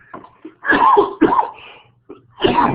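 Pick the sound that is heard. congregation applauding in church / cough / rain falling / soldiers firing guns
cough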